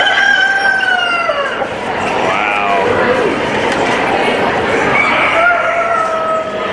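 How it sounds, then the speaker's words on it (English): An eight-month-old Malay rooster at the Florida State Fair in Tampa crows loudly and close by, twice. Clucking and fairground chatter fill the gap between the calls. "Good looking chicken, aren't you?"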